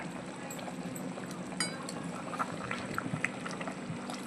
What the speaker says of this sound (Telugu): మనం చికెన్ అయితే సరిపడా నీళ్ళు పోసుకొని చక్కగా ఉడకబెట్టుకున్నాము